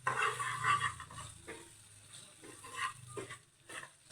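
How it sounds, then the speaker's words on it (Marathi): Chili chutney sizzles faintly in a hot-oil tempering with ginger, garlic and coriander paste for a Kolhapuri rassa, soft frying hiss with occasional stirring scrapes of the pan. "फोडणीमध्ये आम्ही चटणी टाकत आहे"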